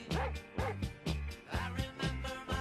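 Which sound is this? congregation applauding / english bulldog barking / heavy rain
english bulldog barking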